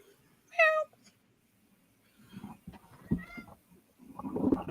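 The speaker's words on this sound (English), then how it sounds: "Got the cat on stream." A cat gives a single clear meow early on, followed by quieter rustling and muffled low sounds and a louder indistinct burst near the end.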